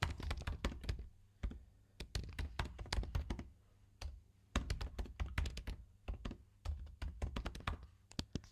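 Someone types a news headline on a computer keyboard: close, crisp bursts of rapid key taps with short pauses between words and phrases, heavier thunks on some strokes, running steadily for several seconds with no talk.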